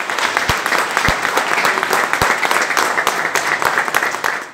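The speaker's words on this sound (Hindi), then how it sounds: "सुप्रीम कोर्ट मुलाजमीन ने तालियां बजाकर इस्तकबाल किया।" Supreme Court staff applaud in welcome as the Chief Justice arrives, a steady dense wash of many hands clapping, with a few sharp, louder claps standing out near the front.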